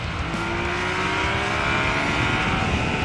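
A Yamaha MT-09 Tracer motorcycle pulls hard under open throttle, its engine note a loud, continuous roar with rising tone and steady wind rush, close by with no talk.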